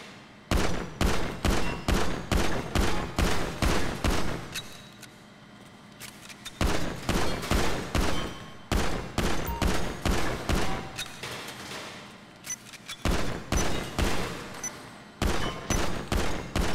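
Rapid pistol gunfire in Grand Theft Auto 5, loud sharp shots fired in quick regular bursts of about eight to ten rounds, separated by brief pauses, with no talking.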